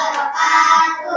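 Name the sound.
classroom applause, clapping hands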